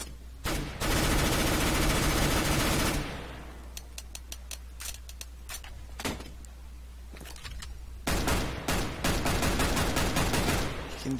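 Galil rifle firing full-auto in CS:GO, one long loud sustained burst up front, then scattered short taps and a second rapid burst near the end, sounding close with no voices.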